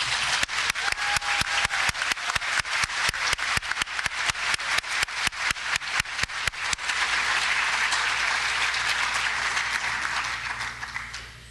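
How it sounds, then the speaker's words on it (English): An audience applauds student writers at an academic awards ceremony: loud, sharp rhythmic claps for about seven seconds, then a dense, steady wash of applause that fades slightly at the end. "Round of applause for these writers, please."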